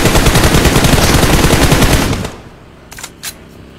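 Sustained automatic gunfire in the PUBG Mobile battle royale game rattles in a loud, close burst of rapid shots for about two seconds, then drops away to a quieter background with a couple of faint distant pops.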